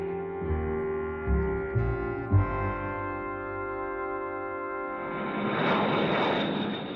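Cold War B-52 bomber jet engines: a steady, layered droning hum with a few low thumps early on, swelling into a broad, rushing roar over the last two seconds.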